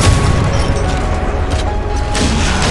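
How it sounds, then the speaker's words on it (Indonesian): Loud, dense booming blasts overlap continuously as missiles strike warships in Modern Warships, heavy and close. "Lepaskan lagi rudal dan kena"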